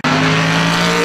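A Chevrolet Corvette race car roars past at close range, its loud engine tone sustained and rising slightly as it goes by, with no voices.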